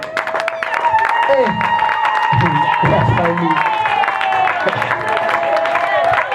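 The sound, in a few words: applause at a wedding party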